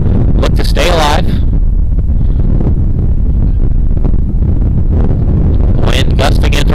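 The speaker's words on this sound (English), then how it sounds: "Wind gusting in from the north right now." Wind gusting across a high school baseball field, a loud, constant rumbling buffet on the microphone that runs throughout, with a broadcaster's voice heard briefly at the start and end.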